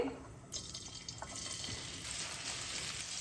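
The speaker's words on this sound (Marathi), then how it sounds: "हा कांदा अगदी ब्राऊन होईपर्यंत परतून घ्यायचा" Thinly sliced onion fries in oil with a little ghee, a soft continuous sizzle that swells after a brief quiet start and stays steady, fairly faint and alone.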